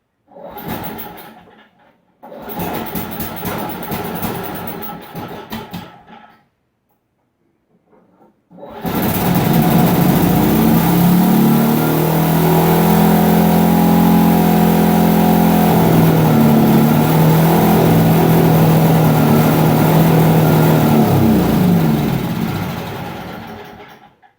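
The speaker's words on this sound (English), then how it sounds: "It's revving at a really high RPM." A small snowblower or lawnmower engine sputters briefly, cuts out, then starts and revs continuously at an abnormally high, steady pitch, loud and close, before easing off at the end.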